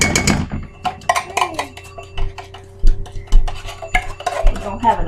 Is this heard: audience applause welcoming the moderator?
no